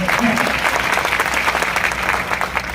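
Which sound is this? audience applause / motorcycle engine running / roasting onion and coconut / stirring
audience applause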